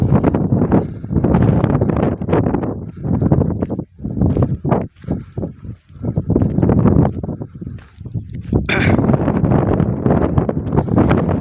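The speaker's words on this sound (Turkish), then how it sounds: "Köyümüzde hava güneşli fakat çok fazla rüzgar var." Strong wind on a sunny day in a Turkish village buffets the microphone in loud, gusty roars that rise and fall continuously, with brief lulls between blasts.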